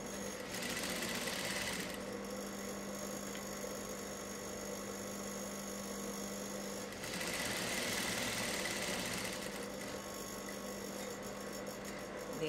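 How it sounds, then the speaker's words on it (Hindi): A sewing machine runs a light double line of stitching along blouse piping. Two close, steady whirring bursts, one at the start and a longer one later, are separated by a quieter mechanical hum, with no talking. "अभी इसको डबल सिलाई मार लेंगे हल्का सा।"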